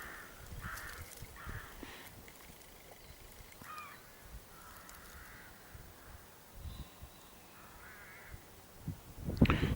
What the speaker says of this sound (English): It's a very pleasing sound, that, of the crows and the rooks